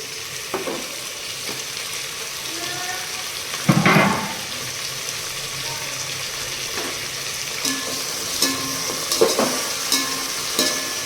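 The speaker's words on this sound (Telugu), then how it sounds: "కొన్ని నేనైతే కొన్ని టమోటాలు వేస్తున్నాను." Tomatoes going into a pan of chicken pulao masala, a steady oily sizzle with a louder burst of hiss as they land, followed by soft stirring scrapes and small pops.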